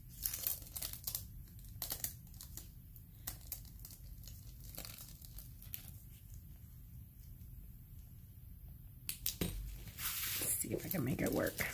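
Decorative foil crinkling and rustling as it is handled while decorating a rhinestone-covered queen mantis craft piece, a soft, steady crackle close by with a few louder crinkles near the end.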